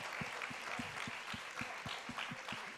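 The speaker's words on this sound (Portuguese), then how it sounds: "Pode aplaudir ao Senhor." A church congregation claps during a celebration service, giving steady, fairly faint applause with a regular rhythmic beat throughout.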